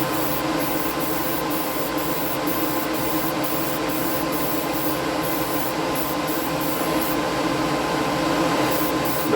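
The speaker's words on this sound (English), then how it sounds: "you can hold it and start spraying again" Airbrush spraying paint onto a model chassis, a continuous close hiss with a steady mechanical hum underneath, unbroken throughout.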